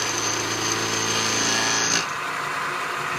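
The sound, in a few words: milling machine taking light cuts on steel coupler nut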